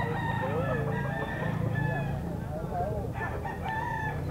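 A golden rooster crows at a pet market, its wavering crows rising and falling over a busy background with chickens clucking nearby, and someone talks partway through.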